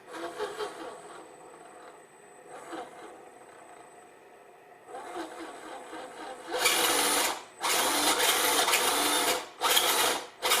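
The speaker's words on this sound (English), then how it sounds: "Steering servo, so it's pretty responsive." The steering servo on an RGT Crusher RC crawler whirs in short bursts. Quieter buzzy pulses come first, then several loud, fast, sharp whirs that stop abruptly between moves.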